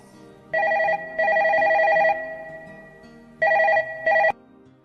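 Classic telephone bell ringing in bursts, two long rings then two shorter ones, loud and close with a bright metallic trill and brief silences between rings.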